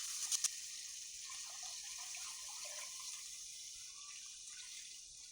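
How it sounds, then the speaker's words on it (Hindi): Kadhi batter mixture poured into a cooking pot gives a steady, soft liquid hiss and splash that runs the whole time, with a few brief clinks at the start. "यहाँ पर सारा मैंने मिश्रण को डाल दिया"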